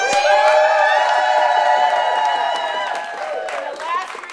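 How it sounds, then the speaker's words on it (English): A protest crowd outdoors applauds and cheers at close range, with scattered claps and raised voices forming a loud, continuous roar that eases off toward the end. "Please give us a round of applause."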